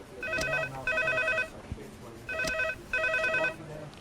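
An old-style telephone bell rings in two long bursts, a double ring repeated twice with short gaps between.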